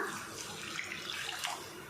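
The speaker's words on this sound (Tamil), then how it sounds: "இப்போ இதில் முட்டை குழம்புக்கு தேவையான அளவுக்கு தண்ணி சேர்த்துக்கலாம்." Water pours steadily into a pan of egg curry masala, a continuous soft splashing wash with no talking over it.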